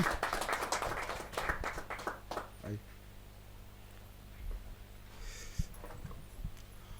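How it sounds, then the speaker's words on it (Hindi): Applause from a poetry gathering audience rattles for roughly two seconds and then thins to a few scattered claps, leaving quieter room tone with faint sounds afterward. "जोर तालियां बजाते रहो भाई।"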